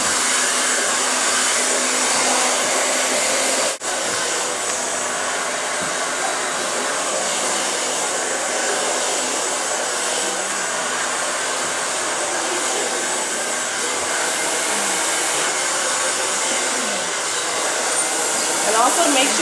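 Heavy professional blow dryer roaring steadily while styling hair with a brush, a continuous loud airy whoosh with one brief dropout near the start, no talk.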